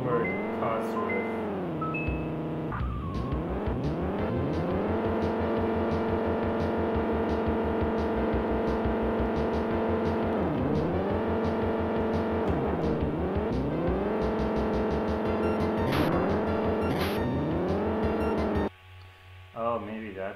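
A Ford Cosworth race car engine in a SNES racing game's championship mode whines as a synthesized tone that climbs through repeated gear shifts, steady and loud, dropping away near the end.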